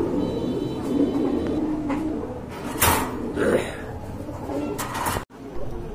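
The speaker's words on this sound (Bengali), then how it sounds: "খুবই চমৎকার এক জোড়া কবুতর" Pigeons coo softly nearby amid background murmur, with a few brief louder rustles and bumps.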